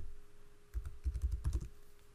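Quiet typing on a computer keyboard, a short burst of soft clustered keystrokes after a brief pause, close and alone with no talking.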